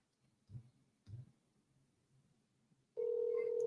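An outgoing phone call tone from a handset held against the microphone comes in sharply near the end, loud and steady after a couple of soft thumps, with no talk.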